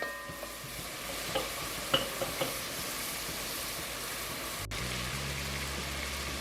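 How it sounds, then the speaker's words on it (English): Mirepoix vegetables and bacon cook down in a soup pot with a steady, close sizzle, broken by a few small utensil clicks and a brief thump near the end before the hiss settles again. "And that mirepoix is cooking down."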